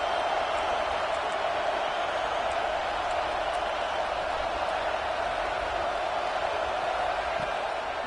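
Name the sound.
stadium crowd cheering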